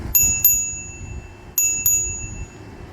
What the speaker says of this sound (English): it's got a bell on it